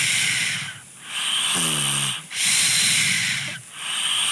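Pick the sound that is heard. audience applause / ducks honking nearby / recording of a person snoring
recording of a person snoring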